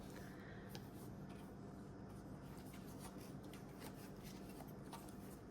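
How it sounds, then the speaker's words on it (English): Tarot cards from a Gorgons deck, an oddly shaped set, shuffled by hand, giving a steady papery rustling and scraping that continues throughout, close and fairly quiet, with no talk over it. "mix these cards up a bit. This is an odd shape. How would I even shuffle this?"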